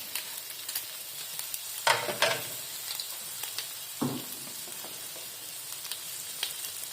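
Bacon, an egg and hash browns fry in an Anko 3-in-1 32cm frypan, a soft steady sizzle broken by a few louder scraping stirs and shifts of the food.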